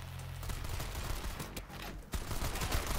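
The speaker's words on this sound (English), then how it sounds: "Oh my God, so many fucking bullets." Dense gunfire from a barrage of bullets in the video game Strider, a continuous loud stream of rapid shots with a brief dip midway before the volley resumes.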